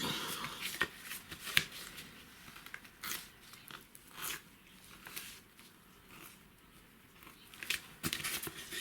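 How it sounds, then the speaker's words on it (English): Still-wet paper for a mixed-media autumn concertina book page is torn and handled, with soft, quiet rustles and scattered crisp crackles spread unevenly, nearby and alone. "It's still a little wet, so it's harder to"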